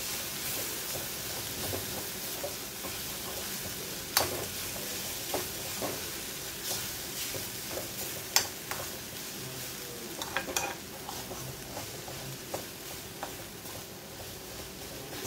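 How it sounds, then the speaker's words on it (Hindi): Onion paratha filling mixed with gram flour is dry-roasted in a pan, giving a low, steady sizzle broken by sharp clicks and scrapes of a spoon as it is stirred; fairly quiet and close, with no voices. "ज़रा सा मैं भून लूँगी इसको अच्छी तरह से, इसका मॉइस्चर ख़त्म हो जाएगा"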